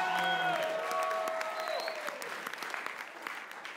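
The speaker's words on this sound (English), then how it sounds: "Come on, give Jesus a big hand clap." Sunday morning church congregation claps for Jesus, a full burst of applause over held organ chords that fade, the clapping thinning toward the end.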